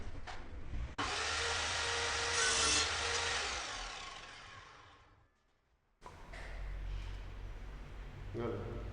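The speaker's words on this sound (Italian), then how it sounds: "Proviamo adesso a fare invece un taglio e verificare la correttezza della perpendicolarità della lama rispetto al piano di lavoro." A Lidl Parkside PMTS 210 A1 bench circular saw cuts through wood with a loud, sustained whine and rasp that fades as the cut ends, then the motor revs up again, with someone speaking over it.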